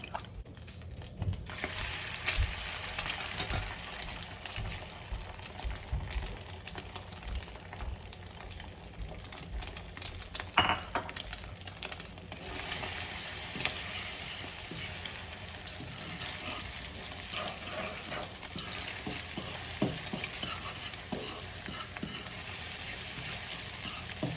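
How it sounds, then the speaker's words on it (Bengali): Beaten egg mixed with onion and green chilli frying in olive oil, a steady close crackling sizzle that runs continuously, with occasional stirring scrapes and small pops. "পরিমাণ মতো অলিভ অয়েল দিয়ে দিচ্ছি। আর দিয়ে দিচ্ছি ফেটানো ডিমটা পেঁয়াজ কাঁচামরিচ দিয়ে বানানো।"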